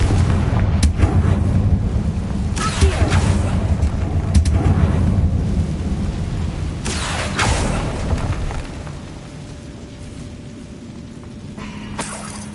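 In the Hogwarts Legacy game on PS5, the Confringo fire spell goes off in several heavy booming blasts with a roaring, rumbling tail, loud and close, with no talking.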